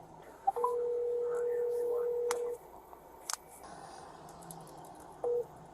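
A phone call is dialed: a steady tone holds for about two seconds, followed by short clicks and a brief closing beep, all faint and heard over a phone line.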